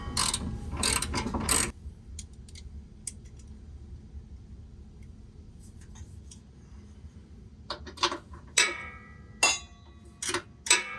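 A ratchet wrench clicks in quick rapid bursts while tightening bolts during an air bag install on a 2022 Ford F-450 Super Duty, loud and close at the start and end with a quieter hum between.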